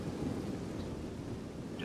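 During a Rome 2 Total War battle, a thunderstorm with rain gives a steady, dense roar of rainfall under a low rumble of thunder, continuous and fairly loud throughout.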